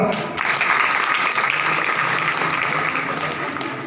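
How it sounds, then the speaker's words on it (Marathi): Audience clapping at a kirtan gathering, a steady dense wash of applause from a crowd that starts abruptly and holds at an even level throughout. "टाळी वाजव"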